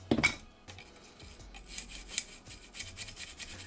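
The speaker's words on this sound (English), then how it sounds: "So we're gonna take the nylon brush and start scrubbing." A nylon brush scrubs carbon off a Hi-Point 1095 carbine part during cleaning, giving soft, close, intermittent scratchy rubbing strokes that stay quiet and have no voices over them.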